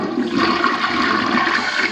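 A toilet flushing in a house: a loud, close rush of swirling water pouring down steadily with no voices.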